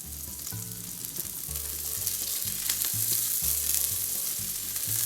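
Asparagus and roasted mushrooms sizzling in olive oil in a pan, a steady loud frying hiss with crackles, close up over a low background hum, no voices.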